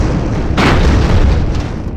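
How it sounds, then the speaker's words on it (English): A cannon hit explodes in the airship battle game Airships: Conquer the Skies, a loud, dense boom that rumbles continuously for the whole moment with a brighter burst partway through. "And ooh, that cannon hit!"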